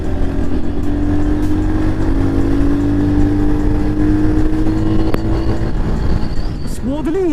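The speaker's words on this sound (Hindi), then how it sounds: "तो भाई तीसरे गियर पे ये बाइक 80 क्रॉस कर रही है" A Royal Enfield Hunter 350 motorcycle cruising in third gear past 80 km/h: a close, steady engine drone that slowly climbs in pitch, wrapped in constant wind rush for the whole stretch.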